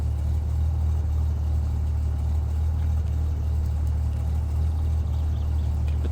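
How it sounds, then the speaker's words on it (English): A car engine idles in the video game My Winter Car, giving a steady, even low drone that runs unchanged for several seconds with no voices. "You gotta actually hold it till the engine actually comes on."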